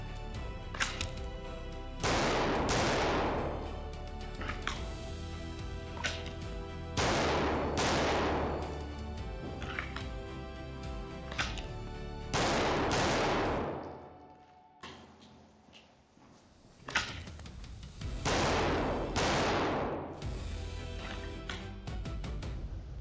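Handgun shots fired at targets during a shooting drill, sharp loud cracks in tight pairs and triples repeated several times across the stretch, each with a ringing tail, with no talking.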